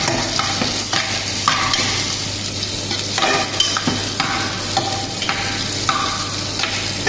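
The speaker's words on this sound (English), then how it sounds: "Okay, so I put more onion here. Okay, and have to saute well" Onions sautéing and being stirred in a hot pan for chicken kofta curry, a steady close sizzle with repeated scraping stirs of the spatula throughout.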